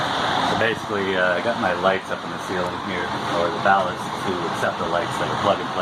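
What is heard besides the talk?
electric fan running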